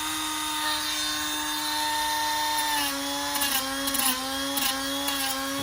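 A Scotch-Brite wheel buffs metal edges with a steady, high motor whine. The pitch dips and wavers briefly as the wheel bears down on the workpiece.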